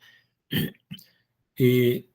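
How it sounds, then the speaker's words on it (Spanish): Two short throat-clearing bursts, then a longer harsh cough-like clearing after a brief pause; close and fairly loud, with no talk. "a veces todavía me da un poco de tos"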